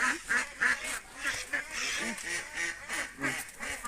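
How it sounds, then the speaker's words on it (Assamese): Ducks quack repeatedly in quick, overlapping bursts while being chased around a yard, nearby and fairly loud, with a hint of voices in the background. "এই দুটা ৰ হাঁহকেইটা দেখা ভালকৈ"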